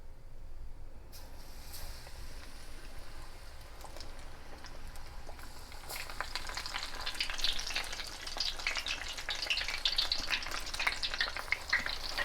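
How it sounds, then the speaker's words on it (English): Turkey pieces deep fry in oil at 350 degrees, sizzling and crackling, the bubbling growing louder and denser partway through, with no talking. "frying them until they're nice and crispy"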